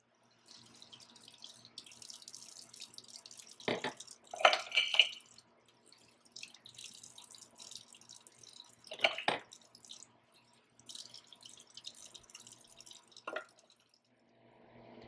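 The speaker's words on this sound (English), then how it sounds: "And rinse everything off with warm water." Warm tap water runs and splashes as espresso portafilters are rinsed at a sink, in intermittent bursts with louder splashes and quieter trickling between.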